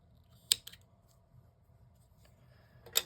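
Scissors snip off a crochet yarn tail on a headphone cover, giving two sharp, close, quiet clicks about two and a half seconds apart over near silence.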